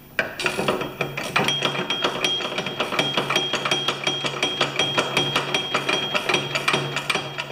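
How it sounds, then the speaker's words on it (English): A 7/8 wrench ratchets on a bolt of a Mastercraft MTD snowblower drive system, giving a steady run of close, rapid metallic clicks in repeated bursts with short pauses, no talking. "I just need that 7/8 wrench."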